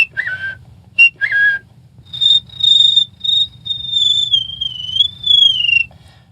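A voice actor whistles an imitation of a cricket chirp: a few quick, sharp chirps followed by a long, wavering high whistle, close and clear against a quiet low background.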